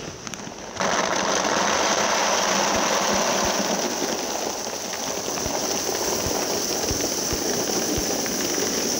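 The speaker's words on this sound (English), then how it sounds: "you're just gonna pour the beans right into the Mylar bag" Dry pinto beans pour steadily into a Mylar bag for long-term food storage, a continuous close rattling hiss that starts abruptly and runs unbroken with scattered sharper ticks of beans striking the foil, no talking.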